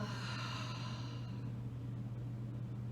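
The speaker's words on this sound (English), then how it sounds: "Holding that breath, pausing at the top, and then exhale" A deep exhaled breath during a calming office yoga break, a breathy rush of air for about a second that tapers off, leaving a steady low hum in a quiet room with no talking.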